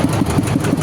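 R400 engine runs during the cutting of eucalyptus wood, a close, loud, rhythmic chugging with rapid regular pulses about every tenth of a second.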